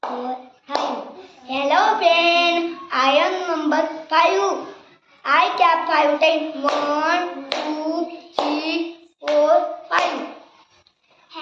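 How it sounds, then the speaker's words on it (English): A young child in a first-grade classroom claps hands while chanting a counting song, the claps sparse and mixed under the child's sing-song voice throughout. "I clap five times"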